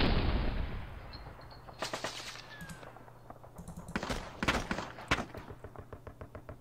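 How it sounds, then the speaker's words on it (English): Mortar rounds strike in the Panzer Campaigns Stalingrad '42 wargame, a string of sharp explosive bursts with short gaps between them, loud and close, heard with no talking. "Hit by mortars."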